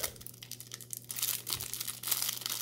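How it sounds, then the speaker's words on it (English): Plastic wrapper of a Magic: The Gathering Ikoria booster pack crinkles and tears open up close, starting with light rustling and turning into a louder, dense stretch of crackling crinkles with a few sharper rips. "Let's see if the plastic's any easier to open than the foil."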